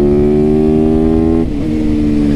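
A motorcycle engine holds a steady, loud revving drone on back roads, its pitch dipping briefly as the throttle shifts before settling again, close and continuous with no talk.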